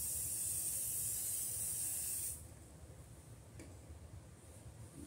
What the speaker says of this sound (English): I'm going to just simply spray it on there.